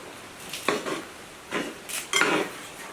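A utensil scrapes and clanks against a kadai as boiled chicken is stirred into masala, in three short separate bursts with quiet pauses between them, close and moderately loud.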